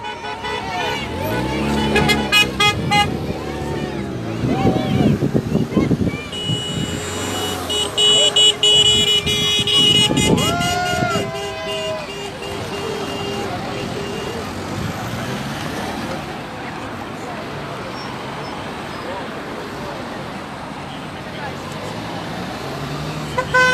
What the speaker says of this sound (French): il y a beaucoup de soutien, il y a beaucoup de klaxons